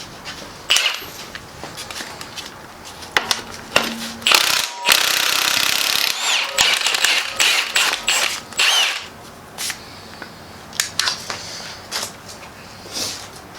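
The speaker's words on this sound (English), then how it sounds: "We're going to take out all the timing cover bolts." A hand ratchet clicks in quick bursts while timing cover bolts come out of a 2010 Mazda CX-7 engine, with close, sharp pawl chatter and a few metallic clanks between the runs.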